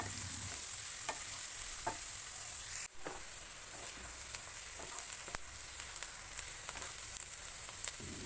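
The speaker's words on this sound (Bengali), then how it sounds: "পেঁয়াজগুলি ভালো করে ভেজে নিতে হবে।" Onions fry in oil in a wok over a low flame, giving a soft, steady sizzle with scattered light clicks and scrapes from stirring.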